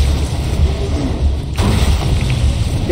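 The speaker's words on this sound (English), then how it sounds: "Grenade." A grenade blast in the Borderlands 2 video game: one sudden, loud booming burst about halfway through, rising over a steady background game rumble.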